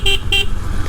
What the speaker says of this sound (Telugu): సో మనం ఒకసారి హార్న్ చూసినట్లయితే